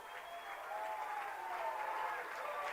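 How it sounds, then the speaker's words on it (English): High school baseball crowd at a Lehi versus Davis game cheering and clapping after a run scores in the fourth inning, a sustained roar with applause building slightly, an announcer's voice faintly over it. "the Lehi crowd explodes"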